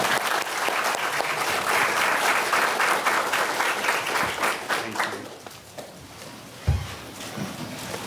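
A lecture audience claps to welcome a professor giving a book talk at Notre Dame Law School, full steady applause that thins out toward the end.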